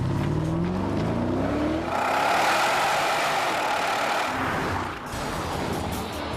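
A Porsche Cayenne Turbo S twin-turbo 4.5-liter V8 roars loudly and continuously at full throttle, its pitch climbing and shifting through the run with no talking.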